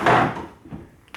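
A large pull-out kitchen countertop, big enough to reach the middle of the kitchen like an island, slides closed with a single loud rumbling thud at the start, then quieter bumps and a faint click as it settles.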